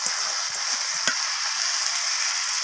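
Washed Gobindobhog rice goes into dal frying in a pot for bhog khichuri, giving a bright, steady sizzle with a few soft stirring knocks near the start, close by and with no talking.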